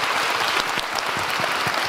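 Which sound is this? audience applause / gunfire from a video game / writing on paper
audience applause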